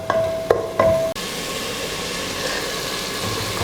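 Tomatoes sautéing in a pan for a pressure-cooker chicken biryani: a steady soft sizzle fills the clip, with a few brief utensil knocks and a short tone near the start.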